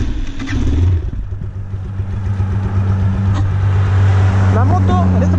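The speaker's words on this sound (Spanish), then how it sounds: "La moto en este preciso momento está andando." A Vento Rocketman 250 motorcycle idles in neutral with a low, steady engine rumble, close by. Someone talks over it throughout.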